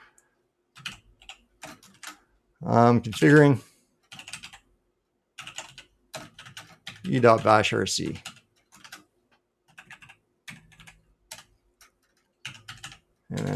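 Computer keyboard typing in quick bursts of light clicks while a script is written, broken by stretches of someone talking close by.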